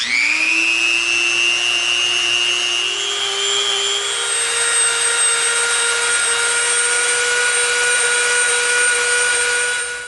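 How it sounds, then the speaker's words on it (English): A Dremel rotary tool whines steadily as it rounds off the edges of EVA foam, a loud close high-pitched motor tone that rises slightly in pitch early on and holds for ten seconds without talking. "We have our Dremel out. We're going to round off the edges."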